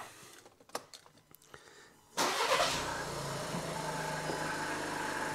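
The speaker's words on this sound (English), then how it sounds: "Start the car," A 2018 Skoda Octavia engine cranks and catches, then settles into a steady idle after a few quiet clicks and taps.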